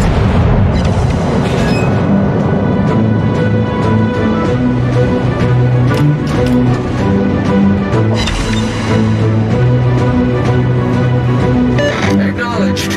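Naval guns fire in a warship video game, booming explosions repeating steadily over a continuous loud battle din with music-like tones, while radio-style voice callouts speak throughout.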